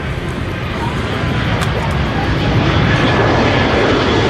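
An F-35 Lightning roars loudly and steadily overhead on a low dirty pass with gear and flaps down at an air force centenary display, a continuous broadband jet rumble with faint crowd noise underneath.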